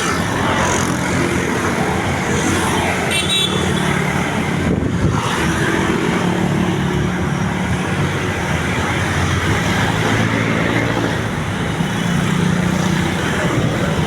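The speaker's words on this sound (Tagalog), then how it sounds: "Yan po sitwasyon ng traffic dito sa may Hilpuyat Avenue." Road traffic on Gil Puyat Avenue in Metro Manila, with a continuous, loud roar of passing cars and motorcycles close by and no break in the rumble.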